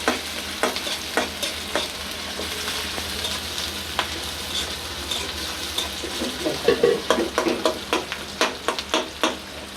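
Onions and garlic sizzling in hot oil in a village kitchen, stirred with a utensil that scrapes and knocks against the pan in an irregular run of sharp strokes over a steady, close frying hiss.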